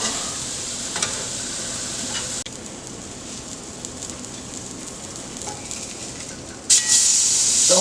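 Food cooks in a hot skillet, with a steady broadband sizzle and hiss running throughout at moderate level, brief stirring or spatter accents, and a sharper burst of sizzling near the end.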